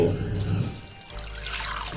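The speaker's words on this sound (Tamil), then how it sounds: "இந்த மிக்சி ஜார் கழுவி அதில் தண்ணி ஊற்றிக்கிறேன்" Water is poured into a mixer grinder jar in a home kitchen, a short faint splash and trickle lasting about two seconds.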